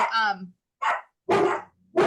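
Dogs bark in a few loud, close, separate bursts, with a short yip at the start, and people can be heard speaking around them.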